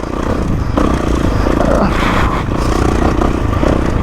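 A 2024 Kawasaki KX450 dirt bike engine runs steadily and loudly while riding, a continuous buzzing drone with slight revving fluctuations and some clatter from the terrain.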